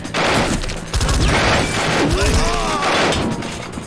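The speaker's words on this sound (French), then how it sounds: "Qui c'est qui me tire dessus là?" Gunfire in SWAT 4: The Stetchkov Syndicate with the Elite Force mod: dense, overlapping volleys of shots crackle throughout the whole stretch, with a voice talking over the shooting.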